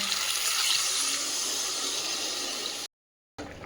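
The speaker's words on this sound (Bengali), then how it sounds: "এবার জলটা দিয়ে দেবো" Water pours into a meat curry cooking in a pan, a steady rushing splash for close to three seconds before it stops abruptly, with a short tail of sizzle afterward.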